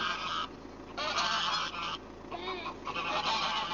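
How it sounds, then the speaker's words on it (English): Several geese honk and squawk over one another without a break, loud and close, with brief dips between bursts of calls. "there were a few annoying geese that wouldn't stop squawking"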